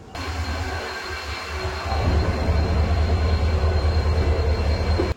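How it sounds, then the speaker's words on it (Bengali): The Kanchenjunga Express pulls out of Guwahati railway station with a steady rumbling roar that swells after the first two seconds and holds loud and continuous, heard from inside the train. "আমাদের ট্রেন ছেড়ে দিল গুয়াহাটি রেলওয়ে স্টেশন।"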